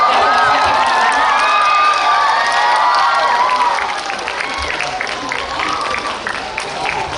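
A crowd at a CGV stage event for the film Ansiseong claps and cheers as the actors come onstage. The applause is thick and loud at first, with high-pitched shouts on top, then thins to a softer, steadier patter.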